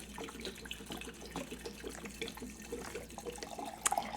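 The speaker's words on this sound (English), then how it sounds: "You're gonna open your vodka. And you're gonna pour your vodka over your vanilla beans until they cover them." Vodka is poured over vanilla beans in a jar, making a faint, continuous trickling and splashing up close with small bubbly gurgles and no talking.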